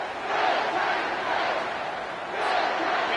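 Home crowd at a TCU vs Clemson college football game roaring in a stadium, a broad sustained wash of cheering that swells twice, with no commentary over it.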